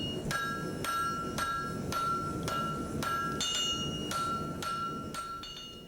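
A hammer pounds hot steel into a knife blade at a forge, striking in a steady rhythm of about eight ringing metallic blows with a bright clang on each hit, close and loud over a constant roar.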